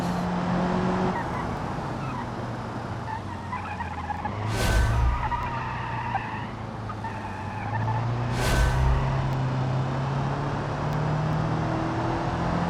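Car in BeamNG with its rear end kicking out while cornering, a sustained engine drone with rising and falling pitch and two sharp tire squeals, loud and near, with no talk.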